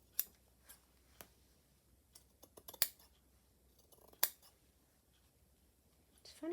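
Scissors cut fabric for a stitched pouch, a quiet room carrying a series of sharp, isolated snips and clicks at irregular intervals, close by with near silence between them.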